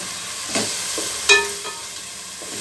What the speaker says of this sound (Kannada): ಈಗ ಶುಂಠಿ ಬೆಳ್ಳುಳ್ಳಿ ಪೇಸ್ಟು ಎಲ್ಲ ಒಂದೊಂದನ್ನು ಫ್ರೈ ಮಾಡಿ ಸೇರಿಸ್ಬೇಕು